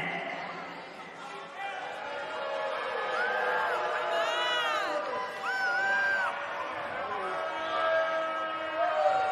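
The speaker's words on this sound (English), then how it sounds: "And Michael, it sounds to me like this crowd already picked the one who they want to win this match" Arena crowd in the WWE 2K19 wrestling video game roars and chants continuously, with whistles and rising whoops layered over a broad chatter bed throughout.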